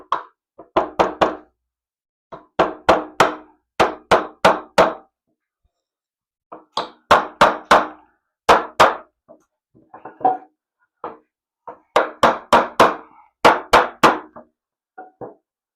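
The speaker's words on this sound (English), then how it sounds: "when you go to hammer it here, it's not going to be too much of a hassle" Hammer strikes driving nails into wood for a homemade project, in rapid bursts of three to five sharp knocks separated by short pauses, close and loud with no talking.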